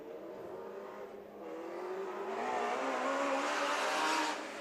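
Race cars on a dirt track after a wreck, engines droning and revving at a distance, building steadily louder toward the end.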